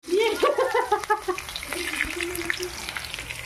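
Potatoes sizzle in hot oil while frying for a mutton dish, a steady hiss that runs throughout beneath a person speaking close by at the start.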